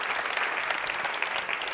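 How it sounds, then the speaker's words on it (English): Audience applause at a security conference talk, a short burst of many people clapping, dense and steady, heard on its own without speech. "Give Dan a big round of applause"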